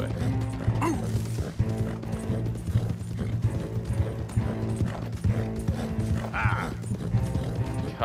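Horse hooves clip-clop steadily at a gallop in Red Dead Redemption 2, a continuous rhythmic beat over a low game music bed, with a brief whinny or creak of tack and no talking.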